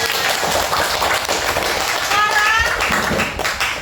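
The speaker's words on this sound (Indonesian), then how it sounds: "tepuk tangan dulu untuk kita semua" Schoolchildren in a classroom clap their hands together after agreeing on class beliefs, a lively burst of clapping mixed with chatter and voices, with a brief whistle-like tone partway through.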